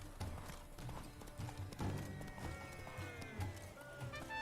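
Geralt's horse Roach gallops in The Witcher 3: Blood and Wine, a quiet rhythmic clip-clop of hooves under a soft game music bed, with no speech.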